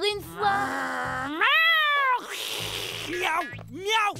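Several loud, drawn-out cat meows with rising and falling pitch, repeated in a row with short gaps between calls; the tone is strained and wailing.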